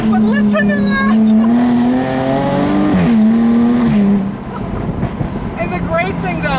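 A 2016 Jaguar F-Type V6 convertible revs hard, its engine note climbing steadily in pitch, dipping briefly, then pulling up again loud and close before easing off.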